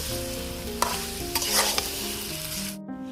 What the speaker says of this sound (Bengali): মাংসটাকে ভালোভাবে কষে নিব